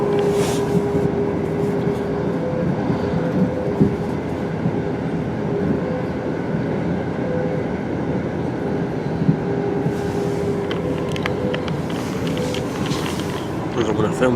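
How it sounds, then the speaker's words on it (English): An Arriva Trains Wales Premier Service to Cardiff Central arrives at foggy Shrewsbury with a continuous rail rumble and rising noise toward the end, under a talking voice. "Just coming out the fog is our train, the 8:10 ARRIVA Trains Wales Premier Service to Cardiff Central."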